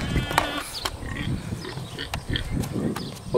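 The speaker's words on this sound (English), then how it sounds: "it sounds like there's a pig" Low, guttural pig grunts repeat in uneven bursts, close by, mixed with turkeys and other farmyard noises and scattered clicks.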